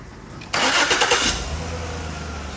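A car engine cranks and catches with an abrupt loud burst, revs briefly, then settles into a steady, lower idle rumble close by.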